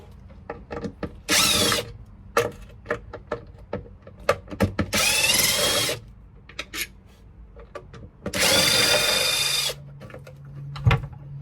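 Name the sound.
removing latch screws with a power drill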